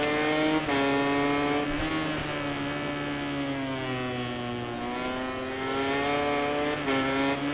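Racing motorcycles in the MotoGP 19 video game: a continuous high engine whine from nearby bikes, pitch rising and dipping with gear changes, steady and loud throughout.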